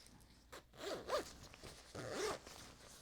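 The zipper of a thrifted jacket is pulled up and down in a few quick, soft rasping strokes, close and quiet.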